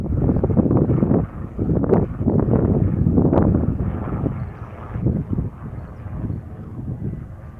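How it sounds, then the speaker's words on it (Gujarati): A helicopter flying low overhead outdoors makes a loud, steady rotor and engine rumble, heavily buffeted by wind, that swells and then slowly fades as it moves away. "જો હેલિકોપ્ટર આપણે માથે લઈ જાય છે"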